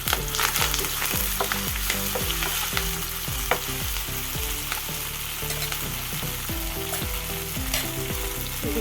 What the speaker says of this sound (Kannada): ಮತ್ತು ಇದಕ್ಕೆ ಕರಿಬೇವಿನ ಸೊಪ್ಪನ್ನ ಹಾಕೋತಾ ಇದ್ದೀನಿ.